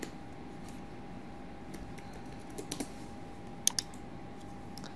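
A few sparse, light clicks of keys on a computer keyboard while a date is entered into an Excel spreadsheet, with a faint steady hum underneath.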